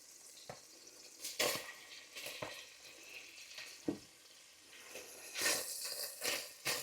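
Chopped bacon and small pieces of salt pork frying at the bottom of a pan for fish chowder, a quiet sizzle punctuated by sharp stirring scrapes and clatters in irregular bursts.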